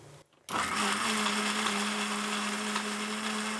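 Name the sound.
mixer grinder grinding chutney with rock salt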